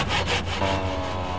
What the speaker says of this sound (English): it might be worth your time to use a good handsaw to make the cut